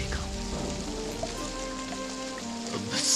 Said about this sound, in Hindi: बारिश की ठंडी ठंडी बूंदें हमारे जलते दिल को बुझा नहीं पाएगी जोधा बेगम।